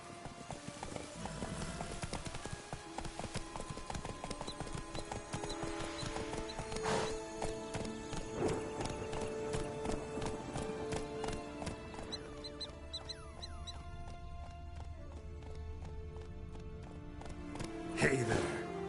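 Roach, Geralt's horse in a Witcher video game, gallops in a steady clip-clop of hooves beneath game music and ambience, with a brief louder burst near the end.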